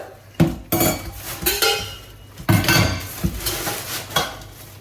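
Metal cooking pot, lid and ladle bought for Attukal Pongala offerings being handled: loud, close clanks and scraping knocks of metal on metal arrive in irregular bursts over a few seconds, with no speech.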